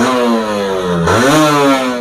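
A 2015 Kawasaki Ninja 150R motorcycle engine revs loudly up close, its droning pitch dipping briefly and then climbing again.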